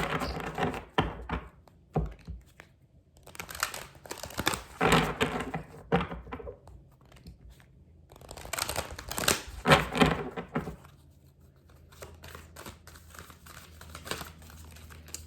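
Tarot cards being shuffled loosely in bursts, riffling and slapping sounds in several rounds with quiet pauses between them.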